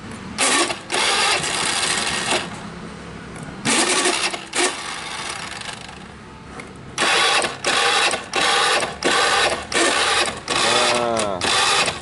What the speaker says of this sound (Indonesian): Jadi motor ini kadang-kadang susah dinyalain starternya gitu.